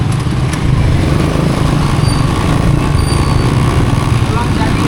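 Motorcycles and other vehicles on a busy road at a branching junction, producing a dense, continuous engine rumble and traffic roar heard close up, with no clear talking.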